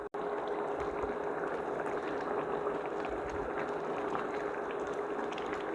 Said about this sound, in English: at this point, it's already boiling.